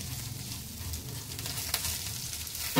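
Amla chutney mixture sizzles softly in a pan as it is stirred, a faint continuous frying hiss with light scraping and a brief clack near the end.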